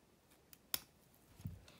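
Scissors cutting fabric for a hand-sewn face mask with filter pocket, a single sharp snip followed by a soft thud, quiet and close.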